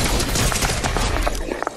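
Golden sniper rifle in the video game Fortnite, amid dense, loud gunfire and booming battle noise that fills the whole stretch, with brief sharp pops near the end.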